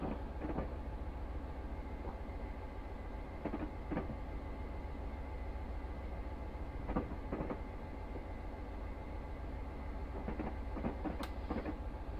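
Class 66 diesel freight locomotive running on rails from York to Newcastle in Train Simulator Classic, a steady engine drone with rhythmic wheel clicks over rail joints, continuous and moderately loud.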